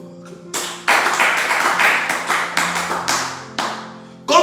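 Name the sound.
congregation applauding in church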